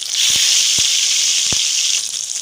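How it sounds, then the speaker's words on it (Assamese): Fish pieces frying in a very hot kadai over a medium-to-high flame for a sesame fish curry, giving a loud, steady close-up sizzle with a few sharp pops and crackles spread through it, and no talking. "এয়া মাছ গোটেইকেইডখৰ মই ইয়াতে বহাই দিলো আৰু এতিয়া মই মিডিয়াম টু হাই ফ্লেমত মাছখিনি বৰ ধুনীয়াকৈ মই ভাজি ল'ম"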